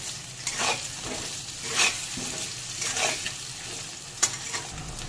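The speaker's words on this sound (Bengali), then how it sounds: "আলু বেগুনগুলো একটু ভেজে নেবো এর সাথেই।" Potato and eggplant pieces frying in hot oil in a pan, a steady sizzle broken by several scraping stirs of the spatula, close and fairly loud, with no talking.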